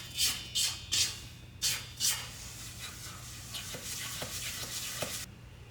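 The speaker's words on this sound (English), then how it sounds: "I just want to make sure I got all the sides," A spatula scrapes the sides of a pan of browned butter. Several quick, crisp scrapes come first, then softer rubbing strokes, close and fairly quiet.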